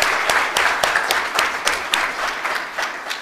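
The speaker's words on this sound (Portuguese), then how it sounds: "vamos aplaudir ela também nessa classificação" A short burst of applause for a competitor placing second in a mixed K1 and C2 class during a council session, dense rapid clapping from a modest indoor crowd, steady then tapering.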